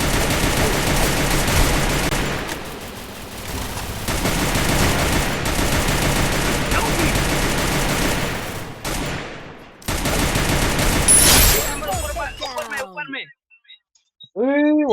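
Gunfire in a Counter-Strike ranked match, bursts of rapid weapon fire and in-game effects running through most of the stretch, with players chatting over the action and a sudden cut to quieter sounds near the end.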